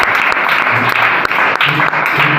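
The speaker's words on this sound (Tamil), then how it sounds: "நல்லா கைதட்டு கொடுத்தாங்க." Loud, dense clapping from an audience at a church prize-giving ceremony for a Bible competition and Sunday classes, sustained and close, with a few sharper individual claps standing out.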